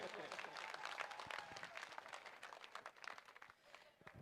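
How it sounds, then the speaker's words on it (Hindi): An audience at a political rally in Sardarshahar gives dense, continuous applause to welcome a bodybuilder guest onto the stage. A voice on a loudspeaker carries over the clapping, which thins slightly toward the end. "जोरदार तालियों से स्वागत करें।"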